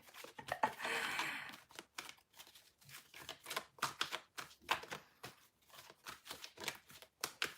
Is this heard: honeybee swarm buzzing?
no